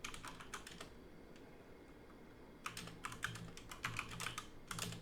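Quiet, rapid computer keyboard typing in two bursts separated by a brief pause, close and alone with no talk.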